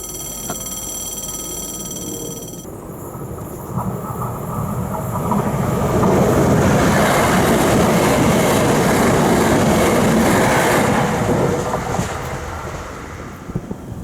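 A heavy freight train rumbles past a level crossing in Villenoy, its loud, broad roar of wagons swelling and holding steady for several seconds, with wind buffeting the microphone and an earlier crossing bell tone fading out.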